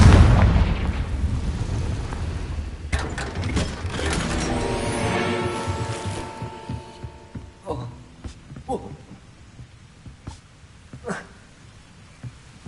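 A Confringo spell in Hogwarts Legacy bursts into a loud rumbling explosion that slowly fades into scattered debris clatter and faint mechanical ticks, with game voices nearby.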